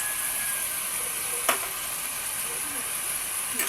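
Garlic and ginger paste sautés in a pan for chicken biryani, giving a faint, steady sizzling hiss with one brief scrape of stirring partway through.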